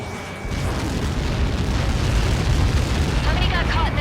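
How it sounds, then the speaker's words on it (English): A massive missile impact explosion in Ace Combat 7 erupts into a dense, sustained roaring rumble that swells and holds loud, with radio chatter layered over it. "How many got caught in that explosion?"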